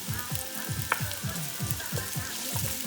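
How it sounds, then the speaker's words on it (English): Vegetables sauteing in a pan on the stovetop for turkey chili, a continuous close sizzle with rhythmic scraping strokes of a spoon repeating every fraction of a second. "So I'm just gonna go ahead and let these saute a little until they're translucent"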